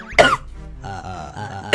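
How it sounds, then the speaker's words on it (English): A throat-clearing cough bursts out loud and close near the start, followed by a stretch of voiced sound and a second sharp cough at the very end. "It's making me cough!"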